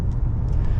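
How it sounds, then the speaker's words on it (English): A Volkswagen Amarok TDI600 with a big-capacity V6 diesel pulls under acceleration, a steady deep bassy rumble filling the cabin for a brief moment, with no voices over it. "it's got this bassy sort of background noise as well"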